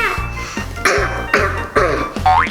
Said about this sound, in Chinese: 咳嗽的时候要挡住嘴巴，